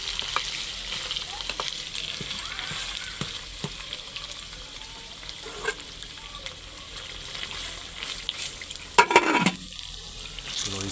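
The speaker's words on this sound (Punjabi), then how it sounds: "ਸਾਗ ਨੂੰ ਤੜਕਾ ਲੱਗ ਰਿਹਾ" A ghee tempering sizzles as it is poured into saag in a traditional mud house, a steady crackling hiss with a few clinks, and a sharp burst of stirring near the end.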